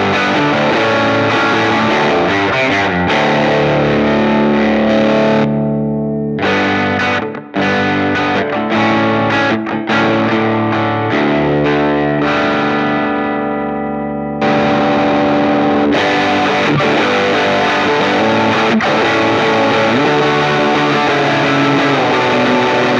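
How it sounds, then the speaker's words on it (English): Electric guitar played through an Electronic Audio Experiments overdrive pedal, giving a dense, loud, distorted tone with sustained chords, a few brief choppy stops midway, then ringing sustain. "It's probably my favorite overdrive pedal I own"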